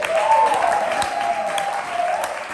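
A poetry slam crowd applauds a poet with a continuous, loud wash of clapping and cheering, a high sustained whoop running through it.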